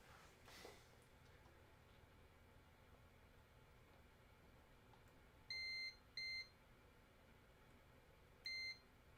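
Three short electronic continuity beeps from a multimeter testing a Disney lightsaber during repair, steady and high-pitched, two close together then one after a pause, over faint background hiss.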